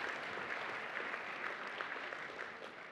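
Steady applause from a banquet audience at a chamber of commerce annual meeting and awards dinner, dense continuous clapping that holds at an even level for the whole stretch and fades slightly at the end.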